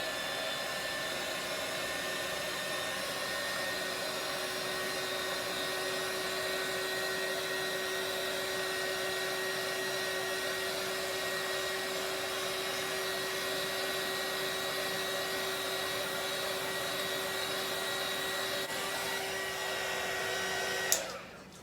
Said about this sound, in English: now I'm going to give it just a little bit of heat.